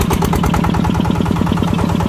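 A new Yanmar 160 tractor engine runs smoothly nearby, a loud, even, rapid diesel chug with a steady pulsing rhythm and no talk.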